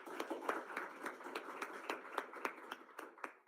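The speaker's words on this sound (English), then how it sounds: "everybody who has contributed definitely deserves a great round of applause." Scattered, quiet clapping from a handful of people in an online meeting, a loose rhythm of separate claps rather than a full round, faint and uneven throughout.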